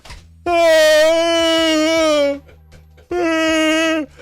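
A voice imitates a strained, muffled nightmare scream in two long, droning wails separated by a short pause, loud and close.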